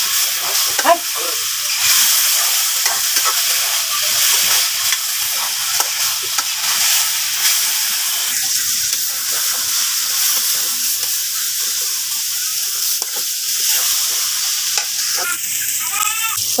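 Beef bhuna with hatkhora is stir-fried in a pot, filling the moment with a loud, continuous sizzle and hiss, punctuated by scraping, clattering strokes of the stirring spoon; nobody talks.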